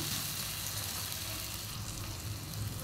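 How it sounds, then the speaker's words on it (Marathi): Green chillies, onion, red chilli powder, salt and turmeric sizzle steadily in hot oil in a pan, a continuous close frying hiss with no talk. "परतून घेऊ चांगलं"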